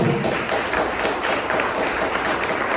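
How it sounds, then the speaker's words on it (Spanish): Church congregation applauding, a dense, steady wash of clapping held at even loudness throughout. "Deme un aplauso al Señor."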